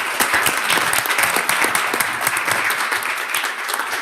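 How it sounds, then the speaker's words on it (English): Attendees at a school board meeting give a steady, close round of clapping for a newly appointed principal, lasting about four seconds with no one talking over it. "let's give him a round of applause because this will be great"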